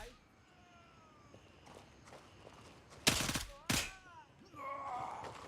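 Two sharp, loud bursts of gunfire in the military shooter game Gray Zone Warfare, heard amid footsteps and ambient game sound, with a voice talking faintly in the background.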